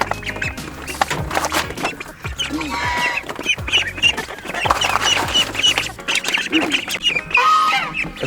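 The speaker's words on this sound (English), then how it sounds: "our guard goose, Greg. He really got worked up about the ducklings being in his area." Greg, a guard goose, honks and calls agitatedly near ducklings on a homestead, with repeated loud squawks and quacking fowl sounds mixed with faint background voices.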